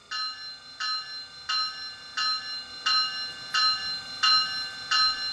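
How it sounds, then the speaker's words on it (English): A model train sound decoder in a Bachmann ACS-64 electric locomotive rings its bell steadily, about eight evenly spaced clangs with a bright metallic tone, close and clear with no voices. "here's the bell"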